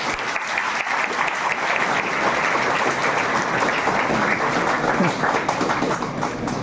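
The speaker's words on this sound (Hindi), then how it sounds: "कि तालियों से स्वागत किया जाए।" Sustained applause from a crowd at a welcoming ceremony, greeting a teacher invited to the stage; steady, dense clapping fills the room throughout without pause.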